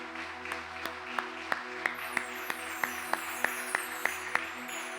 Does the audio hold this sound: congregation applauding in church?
yes